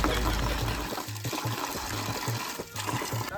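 Water pouring steadily from the opened tap of a village water tank, a loud continuous splashing gush that runs throughout with no pause and no talking over it.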